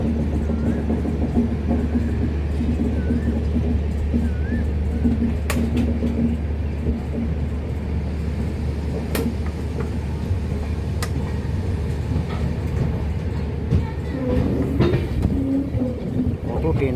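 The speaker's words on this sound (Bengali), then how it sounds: "কামাখ্যা স্টেশনে ঢুকছি, আর একটা এক্সপ্রেস ট্রেন দাঁড়িয়ে আছে" Train pulling into Kamakhya station in Assam, heard from on board: a continuous loud rumble with rhythmic wheel clatter and occasional squeals, with faint background noise throughout.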